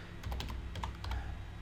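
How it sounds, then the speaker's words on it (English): Quick bursts of typing on a computer keyboard, a handful of clicking keystrokes in uneven clusters, close by and moderately loud, with no voices. "I can't talk and type at the same time."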